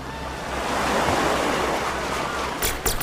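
Rushing water and waves in a VR video game as the player plunges down into the sea, a loud, steady broadband wash that swells and then ends in a few sharp splashes, with no talking.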